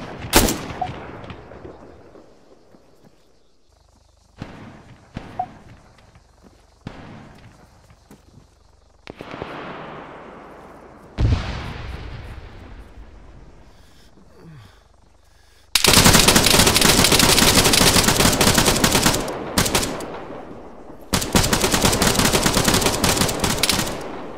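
Machine gun fire in Arma 3 around the town of Kavala in a King of the Hill match, including an SPMG. Isolated shots ring out with long echoes, then loud, sustained close-range bursts rattle near the end.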